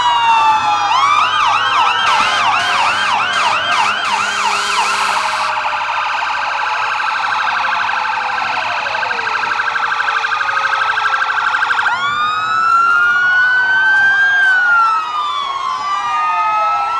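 Loud wailing fire engine sirens in a July 4th parade in Natick overlap and sweep up and down continuously, several vehicles at once, close by and sustained throughout.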